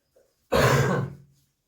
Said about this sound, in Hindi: क्योंकि थोड़ा खांसी आ रही है